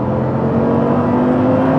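Audi R8 with a V10 engine holding a steady, loud, sustained drone at fairly constant revs, close by, with no talking.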